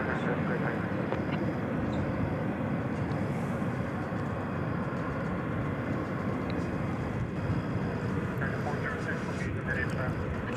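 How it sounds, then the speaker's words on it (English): An American Airlines Boeing 737-800 jet rolls for takeoff on a night runway at DFW Airport, a steady, heavy roar of engine noise that holds constant throughout. "We've got a takeoff about to happen, American Flight 2738 to Kansas City"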